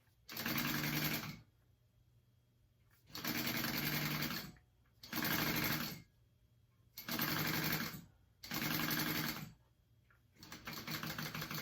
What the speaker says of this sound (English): I'm first gonna baste the zipper on to here, all the way down.